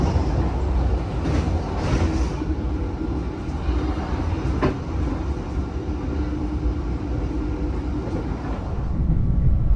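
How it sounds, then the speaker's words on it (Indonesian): The Jaka Tingkir train rumbles steadily straight through Cikampek station at close range, a continuous heavy roar with faint rail clatter throughout. "Sekarang ini kereta api Jakatingkir melintas langsung di stasiun Cikampek ya."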